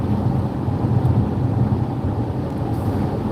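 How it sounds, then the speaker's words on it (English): Wind rushing past during a drive on a hot day, a continuous rumbling roar with heavy, even low buffeting and no pauses. "But the wind's picking up again"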